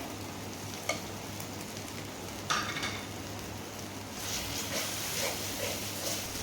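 Ginger and potato mixture sautéing in a pan for a ginger thuvaiyal chutney, a soft low frying sizzle with a few scraping stirs of a spoon, steady and close with no talk.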